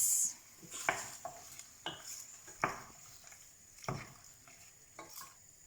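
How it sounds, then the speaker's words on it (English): Gentle stirring of salt and turmeric powder into a tomato curry in a pan, with a few soft scrapes and clinks of the spoon spaced out over a faint background hiss. "I'll just give that a gentle mix."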